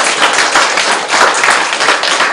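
A crowd clapping together at a Buddhist Diamond Sutra lecture, a dense, loud, continuous burst of applause with no talking over it.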